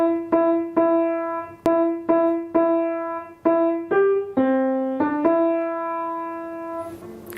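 On piano, the opening two phrases of Jingle Bells are played as repeated evenly struck notes, then a short climbing run that lands on a sustained final tone, clear and close with no talking.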